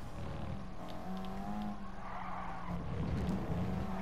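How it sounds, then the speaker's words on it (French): Hard braking by a Nissan 180SX in GT Sport: a loud engine drone with downshifting pitch and squealing tires skidding, then the engine building again. "Allez, gros freinage là."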